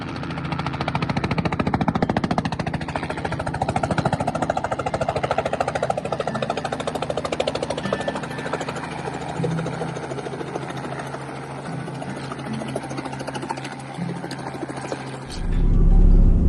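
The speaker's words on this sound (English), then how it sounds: "that was our ride in the helicopter" Steady, loud helicopter rotor and engine drone throughout during a flight over Carnarvon Gorge, a continuous churning mechanical roar, with a deeper thump swelling at the very end.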